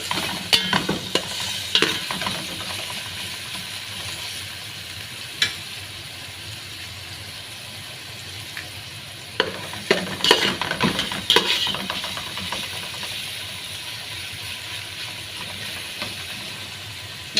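Ginger garlic paste frying in a chicken curry pan, a soft sizzle and hiss under sharp, intermittent stirring scrapes and clicks of a spoon, fairly close and with no talking.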